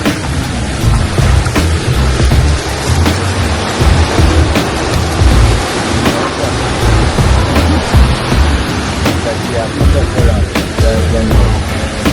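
Heavy rain pours down in Trenchtown, with thunder rolling through. The roar is loud and steady and fills the whole stretch, with occasional sharper cracks standing out above the downpour.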